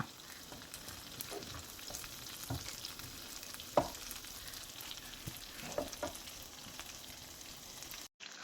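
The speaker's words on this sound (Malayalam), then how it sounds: "എല്ലാം തിരിച്ചിട്ട് കൊടുത്തിട്ടുണ്ട് ആ ഭാഗവും കൂടി നമുക്ക് ഫ്രൈ ചെയ്തെടുക്കാം" Masala prawns sizzle in a pan after being flipped, a steady close crackling fry with scattered pops and one sharper clink, no voices.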